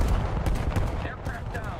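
Rapid automatic gunfire from a naval vessel in a video game, a dense continuous rattle of shots with low booming thuds, loud and close throughout the short burst.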